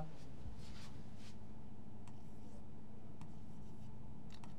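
A pen writes a date on paper with soft, close scratching strokes in short bursts separated by brief pauses, faint against a low background hum.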